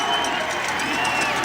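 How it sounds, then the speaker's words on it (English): Stadium crowd at a college football game cheering and clapping in a steady, broad roar that fills the whole moment, with no single voice standing out. "the crowd starting to get into the ball game"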